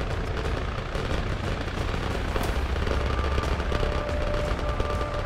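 Sustained gunfire in a shooter video game: a continuous stream of rapid shots and bursts at a moderate level, with faint blasts mixed in and no speech.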